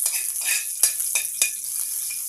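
Garlic sautés in a pan as a bright, close sizzle broken by several quick scraping strokes of a utensil stirring it.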